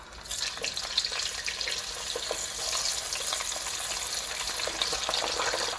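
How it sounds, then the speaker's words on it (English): Chicken pieces frying in hot oil in a pot, a dense, steady close sizzle with crackling pops throughout, no voices. "I'm frying my chicken in 2 batches because that's the only space I have in the pot"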